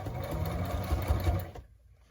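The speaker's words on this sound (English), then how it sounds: "We'll just sew that piece down." A sewing machine stitches down paper snippets with a close, rapid, steady mechanical whirr for about a second and a half, then stops suddenly into near silence.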